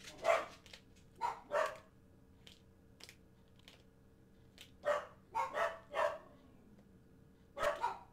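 Dogs barking in the background behind the sounds of a ZX Spectrum game, repeated faint-to-moderate barks in irregular bursts with gaps between them.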